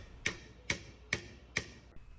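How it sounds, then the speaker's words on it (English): A nail struck by a hammer built into a 3D-printed multi-tool: four crisp, evenly spaced metallic taps close by, with nothing else in the background. "Hammering a nail, check."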